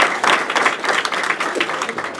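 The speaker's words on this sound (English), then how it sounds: "this is just a couple of rounds of applause" Scattered clapping from an audience at a New York 99th Assembly District campaign event honors the speaker's girlfriend Nikki, a short, moderately loud patter of claps that rises and dips unevenly.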